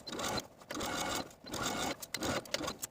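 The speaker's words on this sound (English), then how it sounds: "I'm going to take it to my sewing machine and stitch in the ditch all the way around" A sewing machine stitches in the ditch around the armhole of a top or dress in short, close bursts of rapid mechanical whirring, four runs separated by brief pauses.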